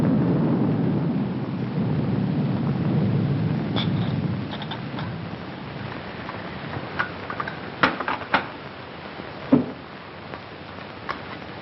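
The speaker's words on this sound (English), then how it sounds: "The rain ought to let up soon" Steady rain with rolling thunder in a 1946 film-noir scene, a broad wash of downpour loudest early, then thinner with scattered sharp drips and a few brief knocks toward the end, no talking.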